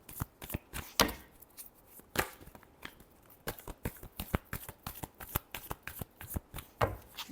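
Tarot cards shuffled by hand in a reading, with a run of sharp crisp riffles and papery slaps, some louder bursts among quick soft flicks, close and alone.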